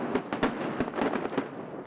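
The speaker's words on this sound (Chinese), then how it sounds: "今年台北101烟火主题 Spark 101是头一届用少烟的烟火" Low-smoke New Year fireworks over Taipei 101 in light rain, a rapid run of sharp bangs and crackling bursts at roughly regular intervals, distant and rumbling, with no voices.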